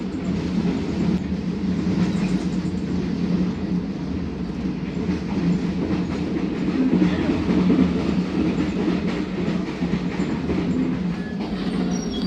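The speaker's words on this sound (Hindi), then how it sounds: "जानी वाला रेलवे स्टेशन पास हो रही है ट्रेन" The Karakoram Express rolls through Jani Wala railway station, a steady rumble with rhythmic wheel clatter and a slight swell in the middle, as heard from on board the train.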